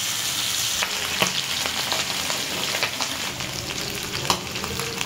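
Hilsa fish pieces fry slowly in hot oil, giving a continuous close sizzle with occasional sharper crackles and pops.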